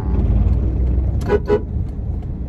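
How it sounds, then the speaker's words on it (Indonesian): During a beginner's driving lesson, a car horn gives two short honks in quick succession over the low rumble of the idling car and road noise. "coba kakak belajar klakson"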